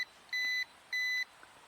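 A Ruko F11 Pro 2 drone controller sounds two steady electronic beeps after losing connection, each about a third of a second, evenly spaced and loud against a quiet background.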